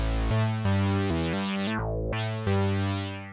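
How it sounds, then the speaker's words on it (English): A monophonic synth on a Deluge plays a loud, bright, buzzy line of sustained notes that change pitch, with a resonant filter sweep dipping and rising in the middle. It plays alone. "this synth is monophonic, which is what we want"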